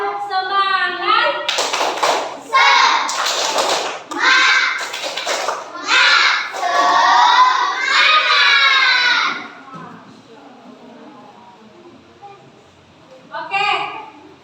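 A group of children in a classroom chant loudly and clap in a patterned rhythm, with voices and sharp hand claps alternating in bursts for about nine seconds. A quieter lull follows, then a brief voice near the end.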